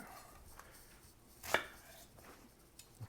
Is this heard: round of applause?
no